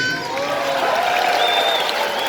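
An audience applauds and cheers at the President's Choice SuperDogs show at the CNE, a steady wash of clapping with crowd noise and a few voices rising above it.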